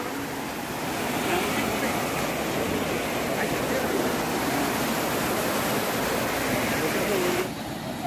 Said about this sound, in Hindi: और भाई देखो ये यहाँ पर ये इतना सारा ढेर सारा पानी नीचे गिर रखा है देख रहे हो, और ये बह के इधर आ रहा है।